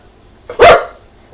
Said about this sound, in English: My dogs never stop barking.